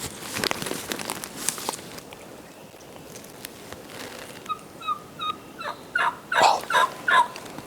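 Wild turkey gobbler in the Ohio spring hunting season, heard after some faint rustling: several rapid gobbles roll out in quick succession, moderately distant, against outdoor quiet.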